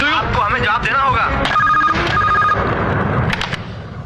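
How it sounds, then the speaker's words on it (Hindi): An electronic telephone ring sounds in a Bollywood movie scene, a short burst of ringing under loud, busy dialogue and background noise. "मिस्टर विशाल की माँ का फोन है, वो आपसे बात करना चाहती है।"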